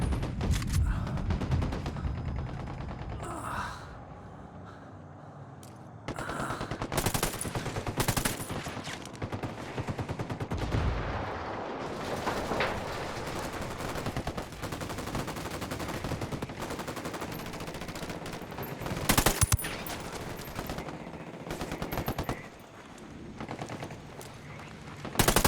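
Gunfire in a firefight in Ghost Recon Wildlands, dense bursts of automatic rifle fire and sharp single shots rattling back and forth, loud and close, with brief lulls between volleys.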